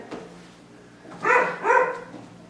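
A dog barks twice in quick succession at moderate distance, two short bursts over a quiet room background.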